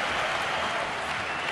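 Basketball arena crowd at a Eurocup semifinal between Gran Canaria and Galatasaray cheers and claps after a dunk, a dense, moderately distant wash of applause and noise that holds steady throughout.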